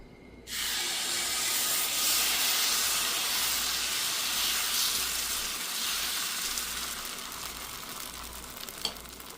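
A loud sizzling hiss bursts in abruptly as ragi dosa batter meets a hot griddle, then holds steady and close, slowly easing near the end.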